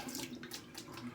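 Tap water runs steadily from a faucet while shaving gear for a straight razor is rinsed, a soft continuous splash heard alone and fairly faint.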